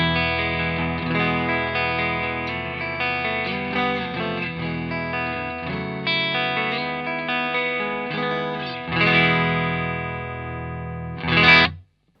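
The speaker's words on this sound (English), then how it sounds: "I have the drive all the way down and it sounds like this." An electric guitar played through a valve distortion pedal in crunch mode with the drive all the way down, light crunch, sustained chords ringing out for several seconds, then a final strummed chord.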